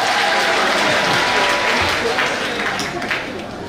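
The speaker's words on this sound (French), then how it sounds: "On va s'acclamer très fort d'abord." Mother's Day celebration audience in Agboville clapping hard, a dense, steady wash of loud applause that holds throughout and eases slightly near the end.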